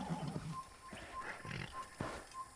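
A horse in the Assassin's Creed video game gives a few short snorting, whinnying calls, spread in bursts over a steady game soundscape with a faint tonal chime.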